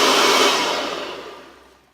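A Kirby Heritage Legend 2 vacuum cleaner motor gives a loud, close, breathy rushing roar that steadily winds down and fades to near silence over about two seconds.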